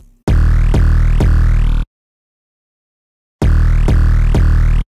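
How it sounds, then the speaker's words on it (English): Third 808 bass pattern in an FL Studio alien/supertrap-style beat: loud, distorted sub-bass notes with retriggered attacks, one long phrase, a pause of silence, then another burst, with no voices. "And now we have the third and final 808."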